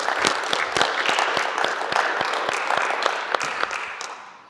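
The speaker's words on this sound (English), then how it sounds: "let's give a round of applause to the entire NVMM staff for all of this." A round of applause for the NVMM staff at a veterans' event, steady dense clapping from an audience that carries on for several seconds before tapering off near the end.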